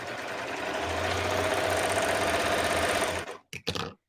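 A serger stitches serger crochet in a fast, steady mechanical whir with rapid needle chatter, close and loud, running continuously before stopping abruptly into a few short stutters.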